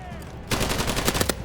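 Rapid bursts of gunfire from a free-to-play World War II shooter game break in after half a second of quieter game sound and keep up loudly in close repeated cracks to the end.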